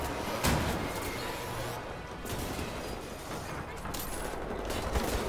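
Shotgun blasts and surrounding gunfire in the first-person shooter Wolfenstein: The New Order, loud and dense throughout with sharp bursts standing out over a busy combat mix.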